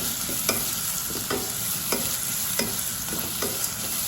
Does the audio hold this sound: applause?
no